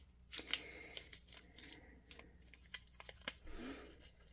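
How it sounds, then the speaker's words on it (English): Paper junk journal page being crumpled by hand, a series of close, irregular crinkling and crackling bursts over about four seconds with short pauses between them. "I'm actually going to crumple it up and I'll show you in a minute."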